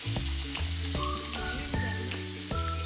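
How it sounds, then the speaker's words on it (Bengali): Fish frying in hot oil while being turned until crisp and red: a loud, steady sizzle throughout, punctuated by a few knocks and clinks of a utensil against the pan. "এগুলোকে ভালো করে কড়া করে লাল লাল করে ভাজতে হবে,"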